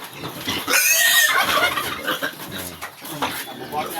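Sow handled and moved on a farm, loud squealing burst near the start followed by grunts and animal noise mixed with people talking and rustling throughout.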